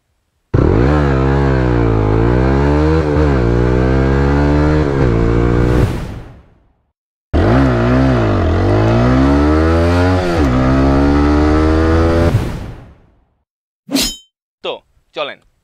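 A fuel-injected 4-valve 160 cc motorcycle, either a TVS Apache RTR 4V or a Hero Thriller 160R, makes two loud, close 0 to 60 acceleration runs. The engine note climbs and drops through gear shifts, then a few sharp metallic clanks follow.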